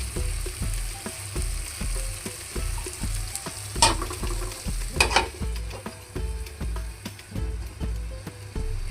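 Noodle soup is stirred in a pan over a soft background sizzle, with a steady rhythm of utensil clicks and scrapes against the metal and a few louder knocks, close by and without speech.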